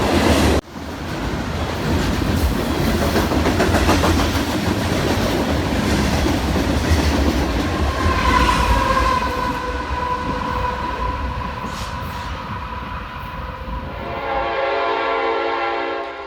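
Union Pacific SD70ACE locomotive leading an empty Labadie coal train in central Missouri, a loud continuous rumble and clatter of wagons rolling past. Steady tones ring out midway, and the sound thins toward the end.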